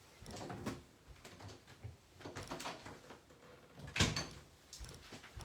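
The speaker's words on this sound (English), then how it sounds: "I'm going to close my office door." An office door is pulled shut indoors, a sharp close-range thud landing near the four-second mark amid low room noise and faint shuffling.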